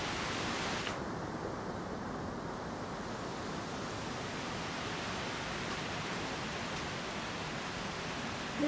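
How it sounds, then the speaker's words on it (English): Wind from Hurricane Irma picking up in North Georgia, a steady broad rushing roar outdoors, constant and moderately loud throughout, with no voices. "Wind's starting to really kick in now."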